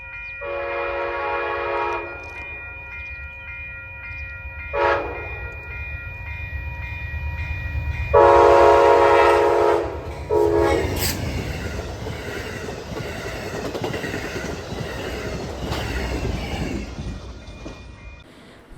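A northbound Amtrak Downeaster passenger train passing in northern Massachusetts: several loud horn blasts, then a heavy rumbling roar of cars and wheels with brief squeals, sweeping close by and fading slightly at the end.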